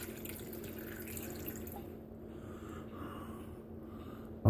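Water runs from a tap into a pot over potatoes for pot roast, a faint steady trickle and splash that fades midway, with a bump at the end.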